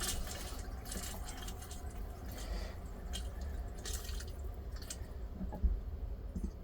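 An RV toilet bowl filling with water after a tap on its foot pedal, giving a steady low trickle and gurgle of running water with small drips and squishes, close and fairly quiet throughout, no voices.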